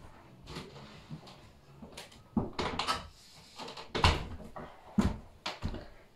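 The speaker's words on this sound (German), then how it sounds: "So, ich gehe mal schnell die Tür wieder zu." A door at home is pushed shut with a few sharp knocks and thuds, followed by a firm closing bang and a couple more bumps, close by and without talk.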